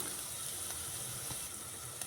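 Steady, quiet sizzling of spices sautéing in a pressure cooker pot, a constant hiss with faint crackles.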